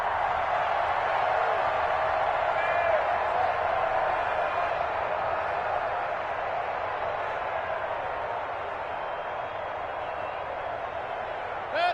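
Stadium crowd noise in a PS4 American football game, Steelers against Browns: a broad, steady roar of cheering that holds loud and even throughout, with faint commentary-like voices mixed underneath.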